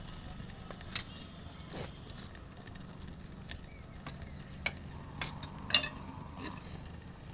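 Chopped onion crackles in hot oil in a pan, a soft, steady sizzle broken by scattered sharp pops and spatters.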